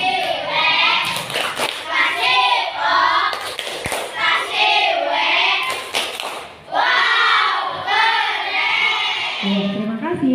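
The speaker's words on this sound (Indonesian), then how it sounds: "Kita berikan tepuk wow untuk kelompok 1" A classroom of children doing a rhythmic 'tepuk wow' clapping cheer, bursts of patterned claps mixed with loud chanting young voices, close and energetic throughout.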